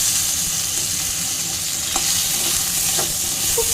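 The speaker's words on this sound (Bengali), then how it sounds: "এবার একটু আমড়াটাকে ভেজে নেব।" Hog plum (amra) frying in a little oil, a loud continuous close sizzle with a few faint clicks of a utensil.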